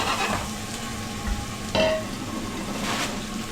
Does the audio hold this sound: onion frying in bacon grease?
yes